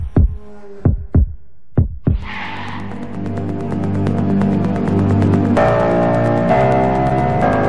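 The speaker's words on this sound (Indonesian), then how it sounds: "Memacu detak jantung." Heartbeat sound effect in an Indonesian cooking-oil advert: four loud, sharp thumping beats in a steady rhythm, then a swelling musical bed with a sustained hum takes over.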